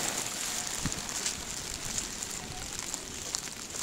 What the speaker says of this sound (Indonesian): Hujannya hujan angin soalnya.